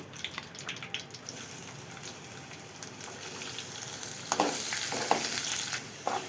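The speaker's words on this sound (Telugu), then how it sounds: "ఉల్లిపాయలు కూడా వేసుకుందామండి" Onions fry in a pan as part of a spicy chickpea masala, giving a steady soft sizzle with occasional clinks and stirring scrapes that grow busier and louder toward the end, with no voices.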